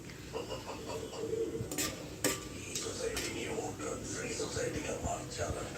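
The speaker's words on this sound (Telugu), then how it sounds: "బిర్యానీ మసాలాలు ఈ ఆయిల్లో వేసి అయితే ఫ్రై చేసుకుంటున్నానండి" Whole biryani spices fry in hot oil with a soft sizzle and repeated scraping and clinking of a spoon in the pan, while a voice talks over it.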